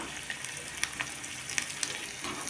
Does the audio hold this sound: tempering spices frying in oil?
yes